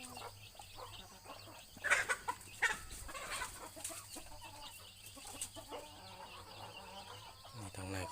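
Parent breeding chickens cluck in a large pen, a few louder calls standing out over a steady low hum, with voices talking faintly in the background.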